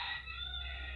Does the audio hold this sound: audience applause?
no